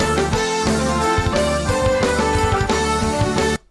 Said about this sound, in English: he does that and simplifies it even further and makes it a pentatonic lick, which sounds like this.